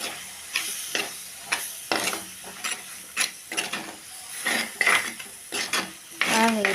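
Jackfruit seed biryani stirred in a pot, with a spoon scraping and clinking against the metal in irregular bursts, close and moderately loud, with no talking.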